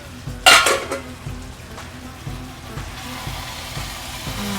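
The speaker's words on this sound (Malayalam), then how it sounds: "നന്നായി മിക്സ് ചെയ്ത് കൊടുക്കാം." A spoon stirs cooked tomatoes in a pot for chicken biryani, opening with a sharp metallic clatter, then soft scraping and gentle sizzling that carries on at a low, even level.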